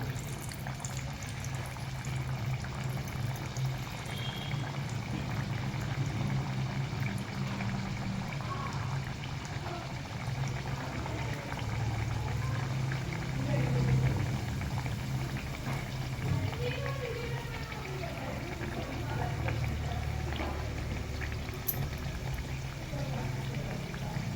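Sanjori puri, a thick rolled wheat-semolina pastry, deep-frying in oil over a low flame, giving a continuous dense bubbling hiss close by that holds steady throughout.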